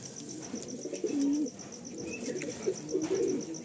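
Nazra Kaldom long-size pigeons coo in a loft, low repeated throaty calls with a clearer drawn-out coo in the middle, close by over a steady high hiss and faint chirps.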